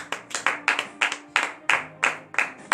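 A congregation claps in unison during a morning prayer service in Benin, about eleven sharp, evenly spaced claps in a steady rhythm, close and alone without speech.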